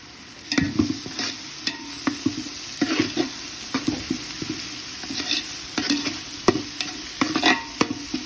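Masala frying with beaten yogurt in a pan for green chicken pulao, a close steady sizzle broken by repeated spoon-scraping stirs throughout, with no talking.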